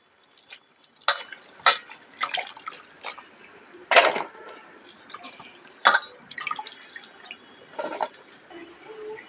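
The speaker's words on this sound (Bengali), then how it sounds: "মাছগুলো আমি জলে ধুয়ে নেবো" Fish and water lilies being washed by hand in a pot of water, giving close, scattered splashes and drips at an irregular pace, with quiet gaps between them.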